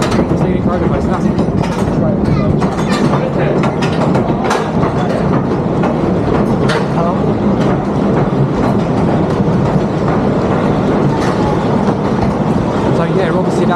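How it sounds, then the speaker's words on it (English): Front-row ride on the Scenic Railway roller coaster at Great Yarmouth Pleasure Beach, with loud, continuous rumbling and clattering of cars on the track and wind noise throughout, plus sharp clicks and knocks along the way. "Front row POV on the Scenic Railway."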